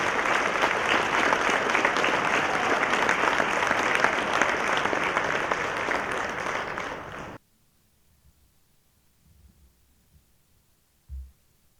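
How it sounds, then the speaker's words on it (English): An audience at a State of the City event claps in sustained, dense applause for about seven seconds, then it cuts off abruptly into near silence with a faint thump afterward. "Let's give this group another round of applause for their efforts."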